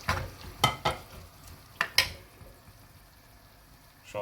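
Liver meat and onions frying in a pan for Rashti vavishka, a soft continuous sizzle broken by several sharp scraping stirs of a utensil against the pan, close and fairly quiet, no talking.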